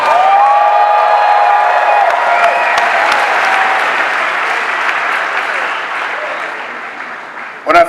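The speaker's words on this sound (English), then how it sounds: "Give them another round of applause." Large Las Vegas event crowd clapping and cheering loudly, with whoops and shouts over dense applause that slowly tapers across about eight seconds, ending in a brief burst of noise.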